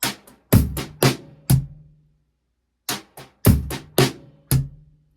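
A drum kit plays a short sparse groove, loud kick and snare hits mixed with softer rim taps and snare ghost notes over hi-hat, pausing midway before repeating the pattern.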